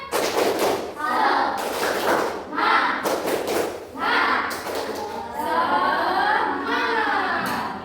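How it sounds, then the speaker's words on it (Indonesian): A primary school class does a rhythmic spirit clap during an Islamic religious education lesson. Several loud, crisp bursts of group clapping come in a patterned beat, mixed with the children's chanting voices. "Coba Bu Guru cek dulu semangatnya. Tepuk semangat."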